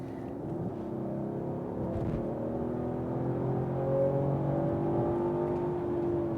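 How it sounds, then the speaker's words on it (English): A Mercedes-Benz CLS450 AMG's 2018 3.0 V6 engine hums and gradually builds in a steady, throaty drone, heard from inside at moderate volume with no talking. "An electric side of it would change the engine note, but it actually sounds more throaty."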